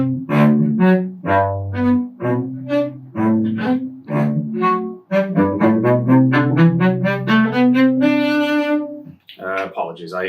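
Cello playing measures 29 and 30 of Bréval's Sonata in C: a run of detached bowed notes in a steady pulse, leaping between registers, close and clear with no talk.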